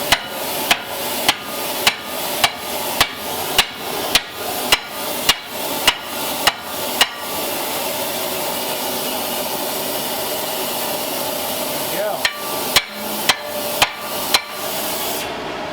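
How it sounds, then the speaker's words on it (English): Steady hammer blows ring out on the ribbed '49 Plymouth bumpers being fitted to a 1947 Ford Coupe, a regular run of sharp metallic strikes, then a pause under a steady whirring hum before a few more strikes. "Got the hammer."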